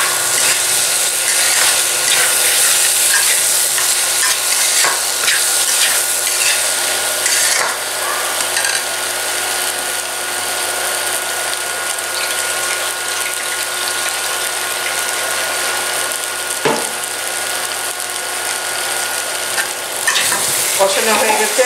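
Potatoes for aloo dum being stir-fried in a pan, a long steady hiss of frying with constant scraping and rattling of the spatula against the pan, close and loud, no speech.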